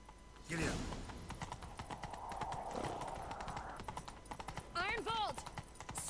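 In The Witcher 3: Wild Hunt, hooves clip-clop in a quick galloping rhythm, joined by a horse's whinny near the end, with some voices in the mix.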